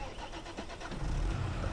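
In Farming Simulator 22, a tractor engine starts and revs up, building from a quieter idle to a louder steady drone with a faint gear-shift clunk, heard fairly softly in the game.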